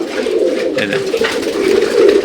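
Teddy pigeons at a pigeon farm in Durgapur, Rajshahi, giving low, throaty, rolling coos close by, repeated continuously over a murmur of farm background noise.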